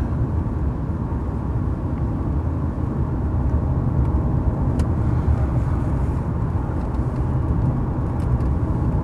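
A supercharged Jaguar XJR V8 moves out onto a roundabout, its engine a steady, close, low rumble that holds at a constant level throughout without any talk.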